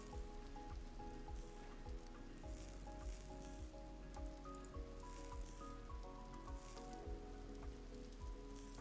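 Steady rain falling in the video game Vintage Story, a continuous hiss throughout with soft percussive ticks and a layered musical tone running underneath.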